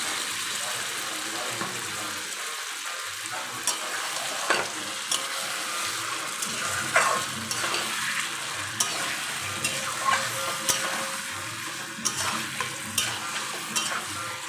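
Marinated chicken for dhania chicken hits a pan of fried onions and sizzles steadily, with intermittent scraping clicks of a spoon stirring the meat, close and moderately loud.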